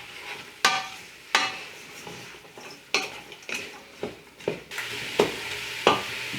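Vegetables softening in a frying pan, a soft continuous sizzle punctuated by sharp clanks and scrapes of a utensil against the pan every second or so, close up and without talk.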